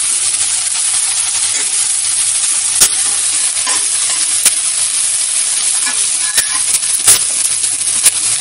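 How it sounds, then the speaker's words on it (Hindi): Onions stir-fry in a pan over low to medium heat, a steady close sizzle running throughout with scattered sharp clicks of a spatula against the pan, no voices. "आँच धीमी या मीडियम रहने दीजिए और प्याज को चलाते रहिए।"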